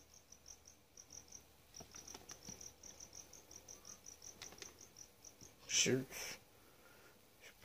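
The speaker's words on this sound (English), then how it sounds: "She'll actually be eating 7 crickets." Feeder crickets chirp steadily in a leopard gecko enclosure, a regular rhythmic trill close by that runs throughout, with a brief louder rustle and a thump near the end.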